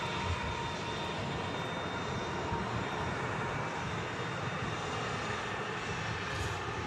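Steady, dense engine roar from an EasyJet airliner landing at Manchester Airport, continuous and fairly loud with no break and no talking over it.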